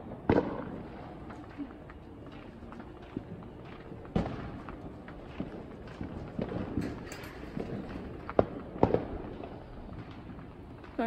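Fourth of July fireworks go off outdoors, heard from an open garage: scattered pops, crackles and sharper bangs at an irregular rhythm, some close and loud, others more distant.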